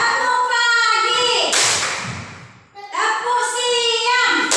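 Children in a classroom doing the morning clap, a burst of rapid hand clapping between stretches of chanting voices.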